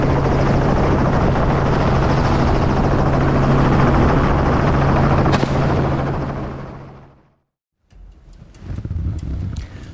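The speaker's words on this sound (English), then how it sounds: "the emissions and noise from the helicopter also affect the environment and lives of animals and people living near the area" A helicopter flies past with a loud, steady rotor and engine roar that fades away over several seconds into near silence, followed by quieter rustling noise.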